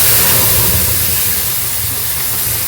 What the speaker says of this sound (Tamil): கொஞ்சோண்டு பெருங்காயம், நல்லா வறுத்தாச்சு. இதில் நம்ம இப்போ கீரை விடுறோம்.